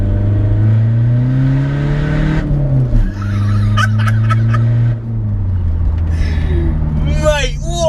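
A Skoda Fabia VRS hybrid turbo diesel hot hatch accelerates hard in second gear, its engine note climbing steadily, briefly dipping at a shift-like break, then pulling again loud and close from inside the cabin.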